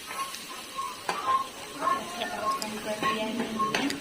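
Ground garlic and cumin sautéing in a pan on a low flame, a soft steady sizzle with faint stirring clinks, under a voice talking.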